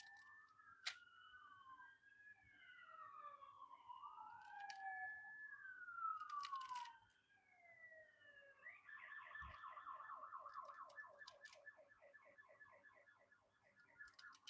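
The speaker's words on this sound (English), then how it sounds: "It sort of sounds like police are chasing somebody" Police sirens in a busy area wail with rising and falling tones, faint and distant, shifting into a rapid warbling pattern partway through, with no talking over them.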